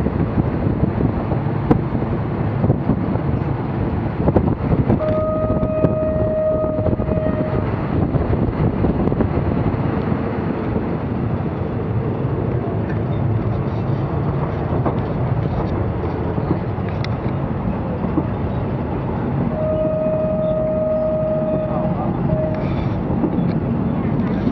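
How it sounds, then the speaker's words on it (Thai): A train rumbles along steadily with continuous rolling noise and wind buffeting, and a horn sounds twice, once early and once near the end. "รถไฟวิ่ง"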